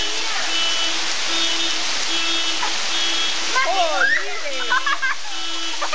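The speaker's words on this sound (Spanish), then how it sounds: "¡Mira los granizos!" Hailstorm with hail falling hard, a dense, loud hiss of pelting ice on surfaces, steady throughout, with a repeating beep in the background and excited voices talking over it near the end.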